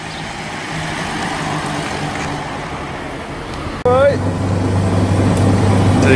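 An Austin 7 car being driven, its engine a steady rumble under road noise, stepping up to a louder, more droning pitch partway through; a voice speaks briefly over the engine.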